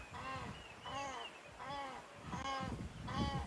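An Egyptian goose pair calls in unison at sunset on a riverbank, a steady series of five harsh, honking bursts repeating at a regular rhythm, faint and somewhat distant over background noise.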